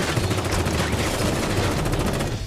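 Rapid bursts of film gunfire crackle through a loud, dense mix, with repeated sharp shots over a rumbling low background.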